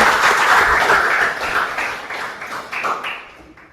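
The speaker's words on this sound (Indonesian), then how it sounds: "Tepuk tangan dulu untuk semuanya." A classroom applauds together, a dense burst of clapping that is loudest at the start and gradually thins and fades over a few seconds.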